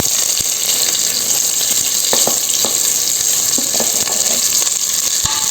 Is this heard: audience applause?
no